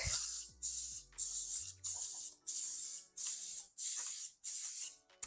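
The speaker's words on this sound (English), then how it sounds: "I'm going to spray them with some coconut spray" Eight short bursts of coconut oil aerosol cooking spray hiss out onto a pan in a steady rhythm, each a bright airy spray separated by brief pauses.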